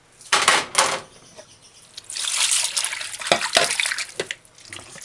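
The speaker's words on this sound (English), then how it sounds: "I'm gonna give it a final rinse" Cow tripe being rinsed under running water from a tap, a steady close splashing and trickling that swells and fades in bursts as the meat is moved through the stream, with no talk.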